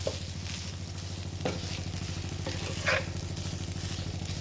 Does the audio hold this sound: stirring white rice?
yes